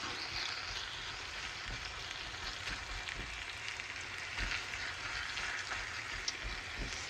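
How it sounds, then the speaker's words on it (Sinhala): Chicken is stirred into a curry in a pan, giving a continuous close sizzle and bubbling hiss with occasional soft clinks and scrapes of mixing, steady and unbroken throughout. "මේ chicken ටික add කරලා හොඳට mix කරගන්නවා."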